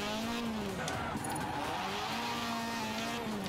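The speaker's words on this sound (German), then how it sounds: "ich drifte schon mal scheiße" Car drifting in Forza Horizon 4, a continuous loud engine drone with sliding tire squeal tones throughout, close and steady, no talking.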